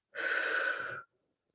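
A single long, soft breath exhaled during a calming colour-breathing exercise for anxiety, a steady airy rush lasting about a second, then quiet.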